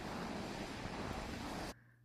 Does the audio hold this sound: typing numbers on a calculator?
no